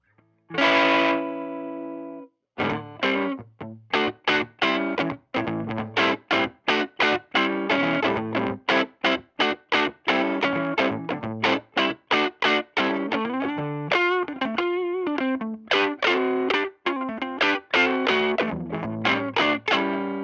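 Electric guitar through a Catalinbread Dirty Little Secret III overdrive pedal at 18V chugs out a steady rhythm part, opening on a sustained chord then choppy palm-muted strums, gritty and loud with no voices.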